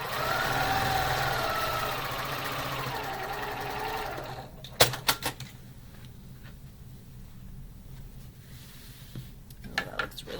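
A sewing machine runs steadily while stitching quilt block seams, a continuous motor hum for about four seconds that stops, followed by a few sharp clicks and handling knocks in a quiet room.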